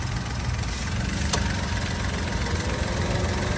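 A 2023 Toyota Wigo G with a 1.0-litre engine idles steadily at close range, giving a continuous low drone with a faint whine above it and one brief click partway through, with no voices present.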